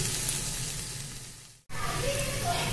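A spice masala for jackfruit chops sizzles steadily in a pan as it is sautéed, with a dense hiss that breaks off sharply for an instant and then resumes just as loud.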